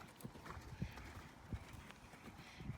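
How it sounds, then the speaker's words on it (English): A horse trots steadily on an arena surface, hooves clip-clopping in an even rhythm at moderate distance, with faint ambient noise and no talk over it. "Don't let this trot get any bigger"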